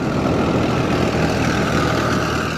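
A tractor engine carries Seydikemer yörük nomads on their highland migration, a steady loud low rumble running without a break, close by, with no talking.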